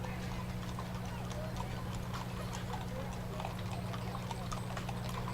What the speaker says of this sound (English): Lots of riders on horses in this year's parade.